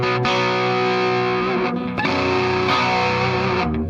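Electric guitar played through an overdrive pedal, a few sustained driven chords and notes with a gritty, harmonically rich tone, picked anew roughly every second, close and loud.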